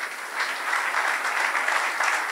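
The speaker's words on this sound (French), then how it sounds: "Tu peux acclamer Jésus, oui?" A church congregation applauding and cheering for Jesus, with dense, sustained clapping from a large crowd filling the room evenly and loudly throughout, without a break.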